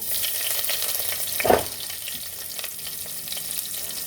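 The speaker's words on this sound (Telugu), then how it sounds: "ఇప్పుడు వెల్లుల్లిపాయ వేగిందండి." Garlic frying in oil in a village-style kitchen for a potato and chana dal curry, with a steady hiss underneath and one brief, louder sizzle burst near the middle.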